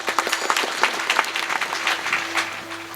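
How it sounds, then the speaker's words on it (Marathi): An audience at a Marathi kirtan breaks into loud, dense clapping, a sustained burst of many hands close by with no talking. "महाराजांसाठी जोरदार टाळ्या वाजवा."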